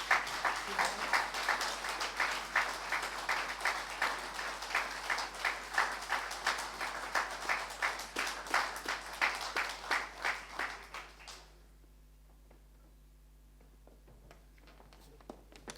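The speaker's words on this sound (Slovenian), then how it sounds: "Še en aplavz za vse dobitnike zahval." Applause for award recipients at an anniversary ceremony of a Medvode fire association, a steady crowd clapping in dense, even bursts for about eleven seconds before it cuts off and leaves a quiet room.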